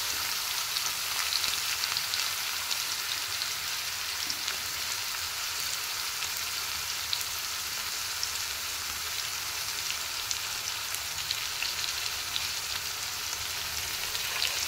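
Onions with green chili paste fry in a pan, giving a continuous, even sizzle with fine crackling pops throughout and no voices.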